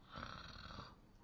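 A storyteller reading a fairy tale aloud imitates gentle snoring with one soft, drawn-out breathy snore, quiet and close.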